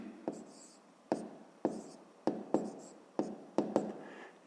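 A pen writes out a fifth-grade math exercise by hand, sounding as sharp, close taps and scratchy strokes in bursts about every half second, with faint quiet speech underneath.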